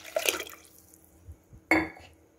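Water is poured into a pressure cooker while making ven pongal, heard as two short splashing bursts separated by a quiet pause, close and with no talking.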